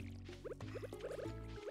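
Watering crops in the Stardew Valley video game: a quick series of light liquid pour and drip sounds, in short bursts, over steady game music.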